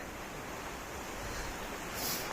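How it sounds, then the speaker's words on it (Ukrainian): A small mountain river near Rakhiv flows steadily as a continuous broadband rush of water, fairly close and even, with no talk over it. "О, це чи це водоспадик? Це гірська річечка"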